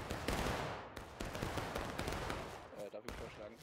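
Line infantry in the War of Rights video game fire a musket volley in a wheat field, a ragged burst of overlapping shots and rolling crackle that carries on for a few seconds at moderate distance, with voices faintly underneath.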